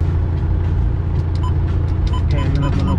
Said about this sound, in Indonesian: Knalpotnya itu Agak kenceng Om.